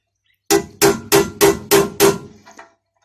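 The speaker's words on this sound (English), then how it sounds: "if you put the metal object somewhere approximating the edge of the hole and give it a few taps" Six sharp metallic taps at an even, steady pace as a metal object is knocked down to seat a button casing into a hole, each strike close and loud and ringing briefly, followed by two faint softer knocks.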